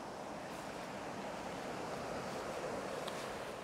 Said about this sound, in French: il y a toujours eu le son de la rivière